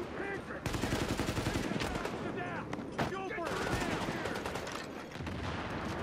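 Pistol and other gunfire in the video game Tom Clancy's The Division, a dense run of sharp loud shots and bursts with a short pause near the middle, mixed with game effects and a voice talking.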